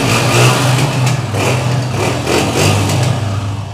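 A 2010 Honda 125 motorcycle engine idles and revs close by, a steady mid-pitched putter swelling in several short throttle blips, loud and with no one talking over it.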